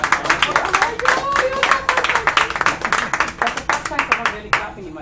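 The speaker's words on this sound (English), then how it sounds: "Thank you for the big round of applause." Audience applause at a magic show aboard a Carnival cruise ship, a crowd clapping in a lively, uneven rhythm with individual hand claps standing out, steady and close throughout.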